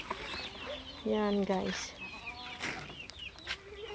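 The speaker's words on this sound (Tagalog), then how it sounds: "Napakalat-kalat na mga manok." Farm chickens scattered around the yard cluck and call close by, with a clear burst of hen cackling in the middle, while a person speaks briefly over the birds.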